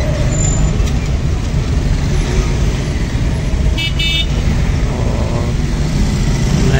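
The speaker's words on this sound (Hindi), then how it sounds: "ऊपर नीचे सब जगह से ट्रैफिक गुजर रहा है" Busy road traffic near Saleem Centre past UP Mor in Karachi, slightly jammed: a dense, steady roar of car and bus engines with occasional horn toots and a brief air-brake hiss, constant and loud throughout.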